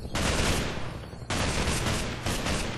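Enemies open fire in Half-Life 2: three loud, rapid bursts of automatic gunfire, each rattling for about a second with brief gaps between.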